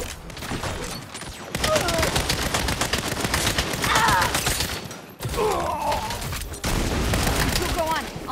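Heavy gunfire in the Saints Row video game, with snipers firing on the player amid a sustained, loud barrage of overlapping shots and booms that briefly drops out twice before resuming, with voices talking faintly underneath.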